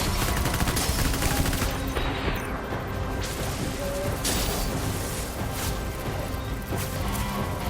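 Assault rifle fire in the video game Death Stranding: dense, loud, continuous volleys of shots and crashing impacts fill the whole stretch without pause.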